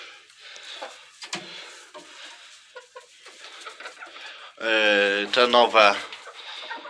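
Chickens cluck and a hen squawks loudly near the end, with a person speaking briefly among them.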